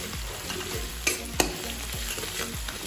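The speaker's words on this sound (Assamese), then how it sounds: "ধনিয়া আৰু এইখিনি ভালদৰে ভাজিব লাগিব।" Coriander and tomato fry in a pan for chicken biryani, a soft steady sizzle broken by rhythmic spatula scrapes and a couple of sharp clinks against the pan.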